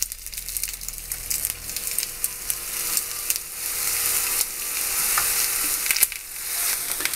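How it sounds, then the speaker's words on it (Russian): Meat chebureki frying in a hot pan, a continuous crackling sizzle of oil with sharp pops and spatters, close and steady, no talk. "Поджарили с одной стороны."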